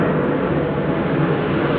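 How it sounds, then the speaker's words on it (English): An airplane passes overhead above a small dead-end residential street, a loud steady broadband roar filling the whole moment with no voices. "plane going"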